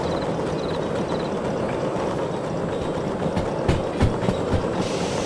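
A locomotive rolling along rails in Derail Valley, a steady loud mechanical rumble with rhythmic clicks and clanks building toward the end.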